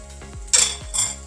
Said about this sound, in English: we're gonna take those sauteed veggies and add them right to